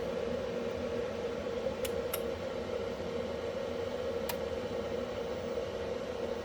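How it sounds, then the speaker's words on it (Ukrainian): Cooling fans of a repaired voltage inverter running on a 14.5-volt supply, a steady mechanical whir with a tonal hum, joined by a few brief sharp clicks partway through. "Так, вентилятори запрацювали."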